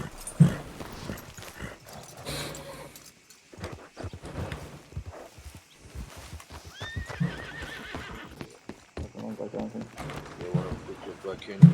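Horse hooves clip-clop steadily through a video game ride, with a horse whinnying near the start and a dog barking, all under ongoing conversation between players.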